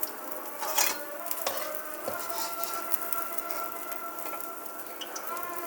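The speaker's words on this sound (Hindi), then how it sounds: "बैंगन हमारे देखें यहाँ हो रहे हैं फ्राई" Eggplants fry in a pan with the stove switched off, giving a soft, steady sizzle with occasional light clinks and stirring scrapes close by.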